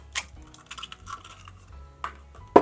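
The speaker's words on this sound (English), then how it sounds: "now I'm just going to crack 2 eggs into it" Two eggs are cracked against a bowl and dropped into buttermilk in a kitchen, giving a few sharp taps and clinks with quiet shuffling between them, the loudest crack coming near the end.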